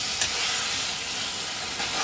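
Pumpkin sabzi roasts in a pan, giving a steady, loud sizzling hiss that carries on without a break, with no talking over it.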